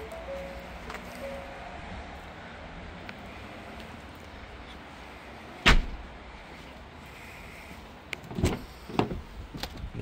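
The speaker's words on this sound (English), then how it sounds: "Nice convenient button just to close it all down." A 2019 Ford Everest's power tailgate closes after a button press, a low motor hum followed by a loud thud partway through, then further clunks and latching knocks near the end, with no talking.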